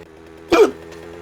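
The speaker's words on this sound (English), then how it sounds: "Fucking hiccups." One sharp, loud hiccup from a man sitting at his gaming stream, a single sudden gulp over quiet background game sound.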